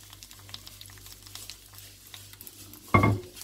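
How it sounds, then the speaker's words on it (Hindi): Hot tadka is poured over a pot of haleem. Faint kitchen quiet gives way to one sudden, loud, close sizzling burst that fades over a fraction of a second. "ये लगा दिया तड़का हमने।"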